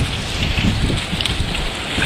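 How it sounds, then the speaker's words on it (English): Heavy rain in a tornado storm hisses steadily and densely with wind noise, close to the lens, as a continuous wash of sound without talk. "Tried to use my hand there to keep some of the rain off the lens"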